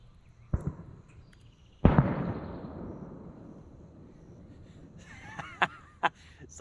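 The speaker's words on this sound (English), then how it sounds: "Someone's got some fireworks a little early." Fireworks going off in the distance around a homestead garden: a sharp pop, then a heavy boom with a long rolling tail, followed by a few more crackling bursts near the end.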